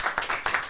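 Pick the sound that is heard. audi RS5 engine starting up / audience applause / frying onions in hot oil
audience applause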